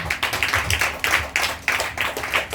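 A church congregation claps in acclaim of Jesus, a dense run of quick, loud handclaps with rhythmic surges, close and steady throughout with no talk.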